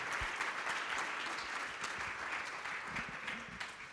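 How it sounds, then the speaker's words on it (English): Conference audience applauding a panel after a session: dense, steady clapping from a large crowd, fairly distant and even throughout, with no speech over it. "Big round of applause for our panel"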